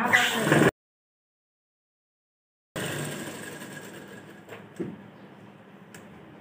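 A sewing machine stitches piping along a marked line with a steady, close mechanical whir, broken by a stretch of silence and followed by a few faint clicks.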